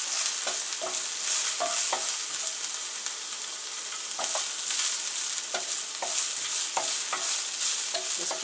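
Shrimp and white onion sizzling in a pan for shrimp fried rice, with a bright, constant frying hiss and repeated scrapes and clicks of a utensil stirring, with no talk.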